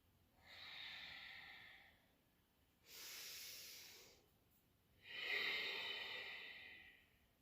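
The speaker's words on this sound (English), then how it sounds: "Noticing the Ujjayi breath calming us from within" Slow, audible Ujjayi breaths in a gentle yoga session, three long airy hisses of breath close to the mic with quiet pauses between them and no talking.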